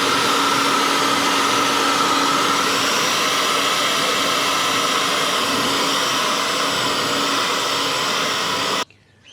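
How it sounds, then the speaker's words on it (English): A hair dryer runs at full blast to dry damp engine parts on a Toyota Land Cruiser 80 Series, a loud steady whooshing whine held constant, then cuts off abruptly near the end. "I'm going to take the hairdryer and try and dry this up."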